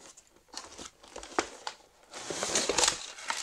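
Plastic and paper packaging being opened on a Crafts&Co punchboard, close crinkling and crumpling with short tearing bursts, ending in a louder, continuous rustle, with no speech.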